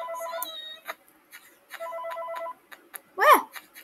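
A video game telephone rings in short electronic bursts with pauses between them, and a brief voice-like sweep comes near the end.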